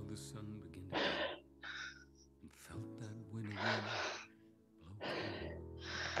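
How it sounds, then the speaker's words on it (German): Heavy panting and gasping breaths from an instructor during a live fitness class, coming in repeated bursts with sustained voiced exhales between them, close to the microphone. "Jetzt hört er mich auch wieder schnaufen."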